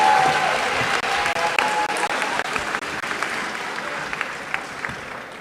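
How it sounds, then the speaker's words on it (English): Sustained clapping from a large audience at a middle school promotion ceremony, dense and fairly loud throughout with a few sharper claps standing out. "Let's give them a big round of applause."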